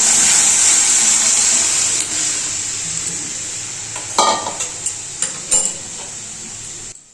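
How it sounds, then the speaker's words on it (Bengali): Panch phoron and a dried red chili are tempered for dal, giving a loud bright sizzle that fades over the clip, with several sharp clanks of a spoon or pot toward the end, no voices. "এখন ডালটা হচ্ছে একটুখানি 5 ফোড়ন আর একটা শুকনো লঙ্কা দিয়ে ডালটাকে এবার সম্বার দিয়ে দেবো"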